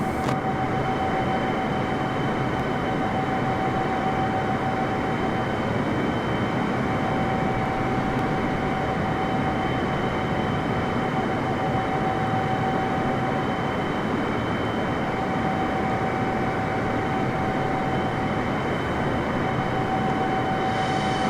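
Boeing 747 engines in Microsoft Flight Simulator give a steady, dense cockpit roar with a fixed high whine, unchanging and continuous throughout, with no talking.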